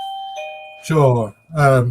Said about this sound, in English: That's someone ringing our front gate.